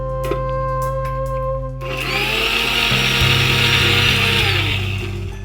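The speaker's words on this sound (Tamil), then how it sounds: "இதை நம்ம ஃபைன் பேஸ்ட்டாக நல்லா அரைச்சிடலாமா" An electric kitchen mixer grinds green chilies and mint leaves into a fine paste, a steady loud whirring grind that starts after a short pause and runs continuously with no talk over it.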